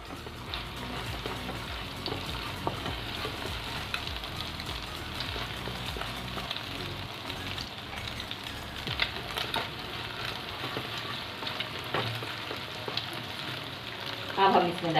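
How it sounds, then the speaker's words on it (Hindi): Egg scrambles in hot oil in a pan, a steady crackling sizzle running throughout at moderate level with occasional scraping stirs and small pops, close and unaccompanied by speech. "अब हम इसमें डालेंगे एग और एग को अच्छे से स्क्रैम्बल कर।"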